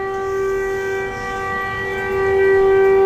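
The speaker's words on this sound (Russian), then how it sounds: "А что за сирена?" Loud, steady siren wailing outdoors with a sustained rising-and-falling tone, holding a constant pitch throughout and swelling slightly louder toward the end.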